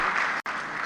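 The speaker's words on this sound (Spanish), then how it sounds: "Le damos un aplauso de bienvenida, mi hermana Ilcita." Church congregation gives a welcoming round of applause to a visiting sister, a short, bright burst of clapping that cuts out briefly midway before resuming, with voices mixed in.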